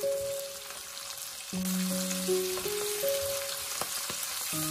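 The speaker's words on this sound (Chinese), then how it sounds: "这时候再加一勺黄豆酱，然后开大火，快速的翻炒一下，翻炒均匀。" Garlic, chili and soybean paste stir-fried over high heat in a wok, a continuous loud sizzle with scraping spatula strokes and occasional clanks, tonal ringing from the pan running underneath, no voices.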